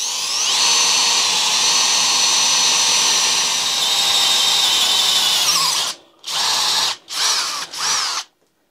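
Parkside Performance PBSPA 12 C3 cordless drill runs in a steady high whine for about six seconds on gear 1, then spins up in three short bursts with gaps of silence.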